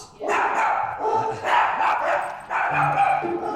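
A Chihuahua barks at a stranger in a series of loud, sharp yaps and yips in close bursts, with a person talking over and between the barks.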